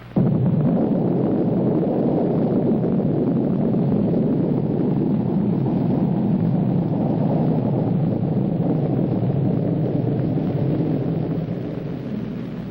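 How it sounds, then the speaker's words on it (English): A Minuteman missile launching at Cape Kennedy in 1965, a loud continuous low roar and rumble sustained for over twelve seconds, fading only slightly at the end, with no voices. "Seven Minuteman missiles were fired during 1965."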